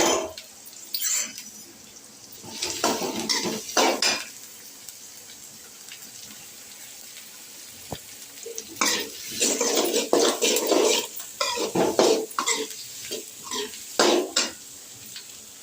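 Green chillies, onions and curry leaves being stir-fried in a pan for a mutton intestine gravy, with intermittent metallic scraping and clinking of a ladle against the pan in bursts, close up and moderately loud, no talking.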